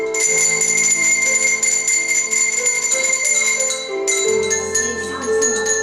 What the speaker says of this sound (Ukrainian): почули, як злагоджено репетирує оркестр дзвоників вихованців дитячого садку